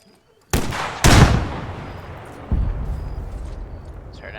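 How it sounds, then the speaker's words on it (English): Arma 3 beach assault: two sharp, loud blasts land close together near the start, followed by a third heavier boom whose rumble lingers and decays under faint distant battle noise. "Just heard another explosion."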